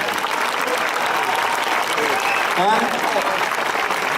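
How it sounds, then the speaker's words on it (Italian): A crowd applauds Gianni at an outdoor village festival in Belvì, Sardinia, with steady, dense clapping throughout and a brief voice cutting through midway. "Un applauso per Gianni"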